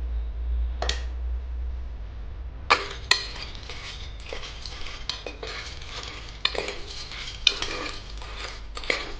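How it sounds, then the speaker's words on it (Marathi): Sandge dal dumplings are roasted in a little oil in a pan while a spoon stirs and scrapes them. Sharp metallic clinks and scrapes recur over a soft sizzle, close and alone with no talk. "तर मी या सांडग्यांमध्ये आता थोडंसं तेल टाकून सांडगे भाजून घेते"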